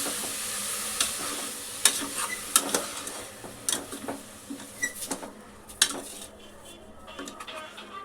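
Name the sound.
sautéing carrot halwa in a pan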